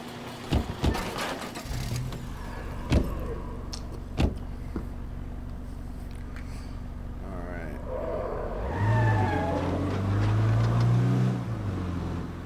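A car engine in the zombie survival game State of Decay 2 hums low and steady, with a few sharp knocks early on, then revs up and surges louder toward the end.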